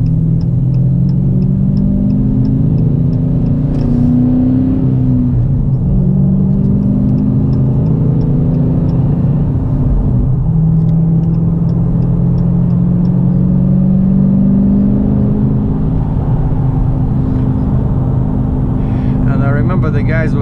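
A Cummins diesel truck engine runs loud and close with a steady low rumble, rising and falling in long revving surges as the truck strains while stuck in reverse.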